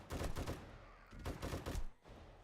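A light machine gun fires in the video game 7 Days to Die, rapid bursts of shots in a few clustered volleys, close and fairly loud, with no talking.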